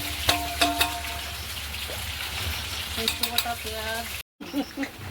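Fish frying in a pan for a fish curry gives a steady, soft sizzle with stirring scrapes, while a voice speaks intermittently over it.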